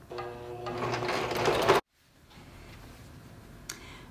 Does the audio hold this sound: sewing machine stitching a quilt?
yes